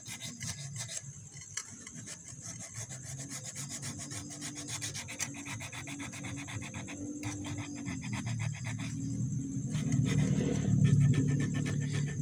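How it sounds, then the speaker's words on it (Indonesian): Sandpaper rubbing over the CVT clutch pads of a Yamaha NMAX scooter during servicing, a steady, close scraping rasp that continues throughout and grows slightly louder toward the end, with no talking. "Nah ini untuk kampasnya teman-teman, cukup amplas saja nih ya, bersihin."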